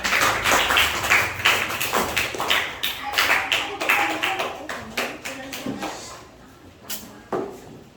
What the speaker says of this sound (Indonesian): tepuk tangan untuk kelompok Malaysia